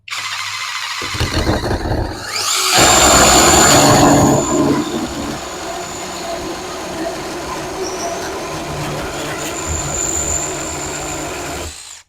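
A WiseHigh 8-inch mini chainsaw running on a Dewalt battery whines up and bites into wood, giving a loud buzzing, rasping cut lasting a few seconds, then a thinner high-pitched chain whir as it keeps running.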